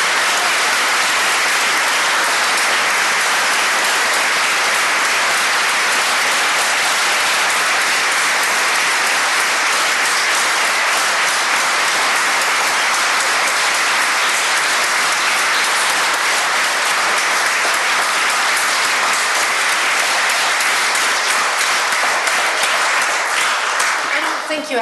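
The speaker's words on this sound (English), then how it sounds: "Let's give them all a big round of applause." An audience gives a long, loud round of applause after a talk on Hawai'i and the Event Horizon Telescope. Dense, continuous clapping roars evenly throughout, like heavy rain.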